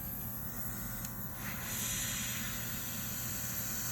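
A steady, close airbrush hiss sprays continuously, rising slightly partway through, with no talking over it.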